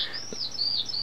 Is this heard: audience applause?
no